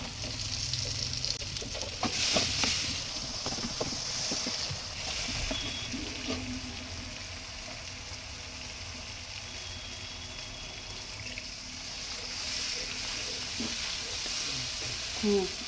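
Tomato and a masala of garlic, salt, coriander, turmeric, chilli and cumin powder sauté in a pan for an egg curry. A close, steady sizzle continues throughout, broken by scraping stir strokes that are louder early on.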